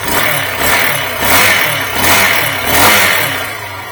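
A 2022 Peacesports Brozz Recon 250 enduro dual-sport motorcycle with a carbureted 229 cc engine is held at a high idle by hand throttle. The engine is loud and close, rising and falling in steady swells.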